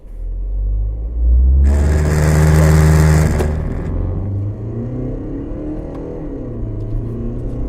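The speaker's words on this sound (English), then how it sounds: "Put your foot flat down the accelerator." A BMW X2 launches hard from a standstill with the accelerator floored: a sudden loud engine roar rising in pitch, then easing back into a lower steady rumble as the car pulls away up close.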